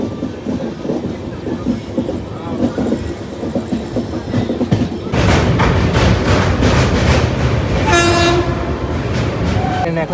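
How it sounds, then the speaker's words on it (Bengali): A long-distance Howrah to Bareilly train pulls out of a station: a low rumble and background murmur build to loud rolling wheels and clattering carriages, with a horn blast near the end. "ট্রেন হয়তো এখন ছেড়ে দেবে।"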